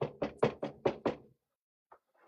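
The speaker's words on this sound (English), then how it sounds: "it is a knock on the door" Six quick, solid knocks on a door in an even rhythm, close and loud, followed by silence and a faint thump.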